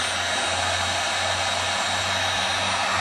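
A heat gun blows hot air with a loud, steady, unbroken whoosh and a low motor hum, close by and alone, while working on battery cable in a boat.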